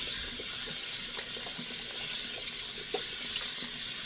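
Warm water running steadily from a tap into a sink, a constant close hiss with small splashes and drips, no voices.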